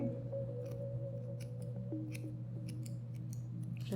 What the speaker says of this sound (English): I find very convenient these shears.